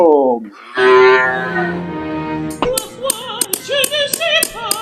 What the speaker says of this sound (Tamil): என்னடா பேங்குக்குள்ள மாடு கத்துற சத்தம் கேக்குது